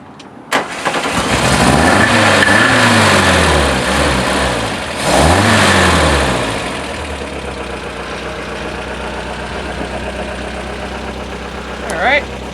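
A Volvo 544 cranks and fires after a valve adjustment, revving up twice in swelling surges before settling into a steady, close idle, with talk over the engine.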